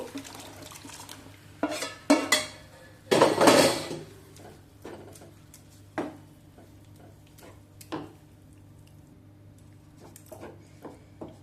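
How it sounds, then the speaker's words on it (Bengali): Thickened milk goes into a pot of carrot halwa cooked in ghee, heard as a brief pouring rush amid scattered clinks and scrapes of a spoon against the pot, with quiet gaps between. "এবার যে দুধটা ঘন করছিলাম সেটা এর মধ্যে দিয়ে দেব।"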